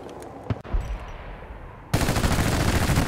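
AEK rifle fire in Battlefield 2042, a few separate bassy shots followed by a sustained full-auto mag dump that lasts to the end, loud and close with no talking.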